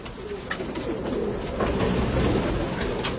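Pigeons cooing softly in a loft, low repeated coos over a steady background hum and rustle, no talk.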